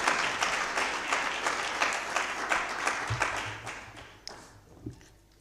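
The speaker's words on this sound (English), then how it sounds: "May we kindly please give her a round of applause as she ascends the podium" Round of applause for a speaker ascending the podium at a faculty event, a steady crowd clapping with crisp individual claps, gradually thinning out and fading toward the end.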